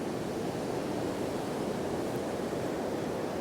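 Ocean surf roars in a continuous broad wash at North Wildwood beach, waves churning and breaking close by with a steady, noisy rush and no voices.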